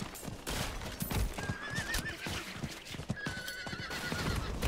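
A horse whinnies twice over quick galloping hoofbeats in the video game Diablo IV, with a game-like sound mix and no speech.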